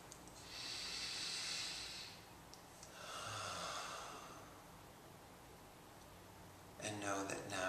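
Slow, deep breathing during a guided heart-space meditation: a long airy inhale, a second breath, then a quieter pause, all soft and close with no talk.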